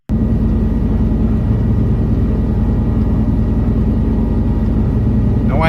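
Steady, loud engine and rotor drone of a helicopter hovering in Microsoft Flight Simulator 2024, a continuous low rumble with no breaks and a brief rising tone near the end.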